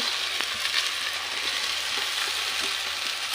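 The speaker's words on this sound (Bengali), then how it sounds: "এবার লাল লাল করে এই যে আলু গাজর ক্যাপসিকাম কাঁচা লঙ্কা সব লাল লাল করে ভাজা হয়ে গেছে" Potatoes, carrots, capsicum and green chillies fry in a pan with a steady, close, broadband sizzle that holds evenly throughout, with faint scattered crackles and no voices.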